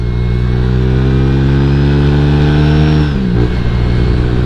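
A Honda Vario 150 scooter's exhaust drones loud and close at a steady rev with a strong harmonic tone, then the pitch drops sharply as the throttle eases near the end.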